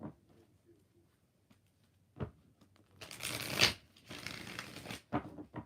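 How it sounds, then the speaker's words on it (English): Tarot cards are shuffled by hand during a live reading: a short riffle, then a louder, longer burst of crisp shuffling close up, followed by a few lighter flicks of the cards. "5 shuffles while Mel is typing."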